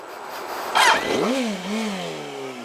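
A Yamaha R1 motorcycle engine picks up as the clutch bites and shifts into second gear after a fresh clutch replacement; a sharp burst is followed by the engine note dropping and then settling into a steady, close, fairly loud drone.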